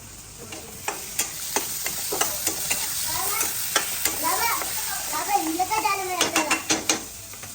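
Onion and chili fry in a pan at a medium, steady sizzle, with the clatter and scrape of stirring against the pan throughout.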